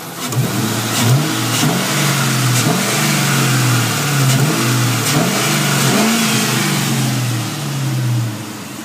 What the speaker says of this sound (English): Also has a brand new idle air controller. Keep the idle nice and smooth.